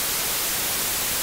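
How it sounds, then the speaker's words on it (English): Basic white noise from the Operator synth in Ableton Live, a flat, hissing static that holds at a constant, fairly loud level for its whole length with nothing else heard. "here I just have basic white noise being fed out of Ableton Live's operator"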